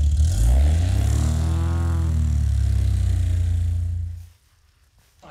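A small airplane lands on wet grass and mud at high density altitude in Moravia de Chirripó, Costa Rica. Its engine drones loudly and steadily with rattling underneath, then cuts off abruptly near the end, leaving near silence.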